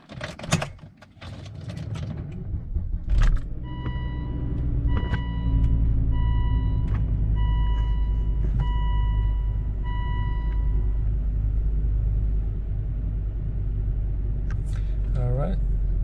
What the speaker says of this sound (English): So I'm gonna start it up, let it run for a little bit, and rev it up and see how it runs.